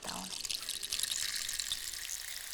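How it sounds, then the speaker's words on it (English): Water goes onto watercolor paper with a soft, close, wet trickling and dabbing sound. It is quiet and continuous for a couple of seconds. "First, I'll add some water to the paper."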